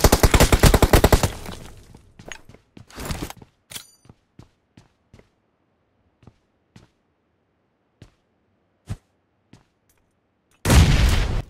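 Explosions and gunfire in the PUBG Mobile game: a dense loud burst of blasts, then scattered sharp single shots spaced out over several seconds, and a final heavy burst at the end.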